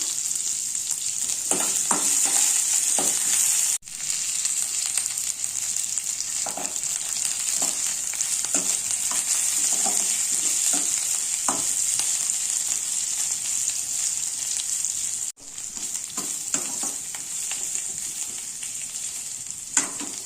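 Tempering spices with onions and chillies fry in a pan, giving a steady, close sizzle with occasional soft crackles and stirring scrapes, briefly cut off twice.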